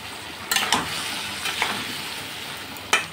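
Fried potatoes and eggplant sauté in a pan under a continuous close sizzle, with a handful of scraping stirs scattered through it and nobody speaking.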